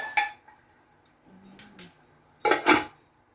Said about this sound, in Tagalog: At takpan po para madaling kumulo.